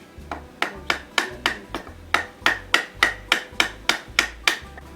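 A hammer strikes a piece of wood during a motorcycle clutch cable replacement, giving about sixteen sharp, evenly paced knocks close by. There is no talk.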